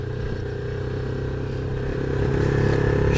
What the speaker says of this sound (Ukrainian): мотоцикл не хоче їхати на невеличких обертах